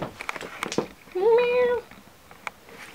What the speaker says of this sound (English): here's one of my cats.